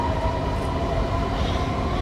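A Brussels metro train in motion, a loud, steady rumble of wheels and carriage with a continuous rolling roar and no voices.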